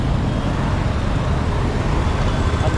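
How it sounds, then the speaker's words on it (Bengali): Traffic streams across a nearby bridge in Kolkata, a dense, loud and steady roar of passing cars, buses and trucks with no break and no talking. "ব্রিজ থেকে অনেক গাড়ি যাচ্ছে।"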